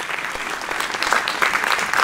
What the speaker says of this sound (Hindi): उसके लिए भी इनके लिए जोरदार तालियां।